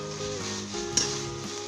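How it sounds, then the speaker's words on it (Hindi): Shredded chicken frying on a high flame makes a short burst of steady sizzling in the pan, with a low hum underneath. "अब हाई फ्लेम के ऊपर हम इसे अच्छे तरीके से फ्राई करेंगे।"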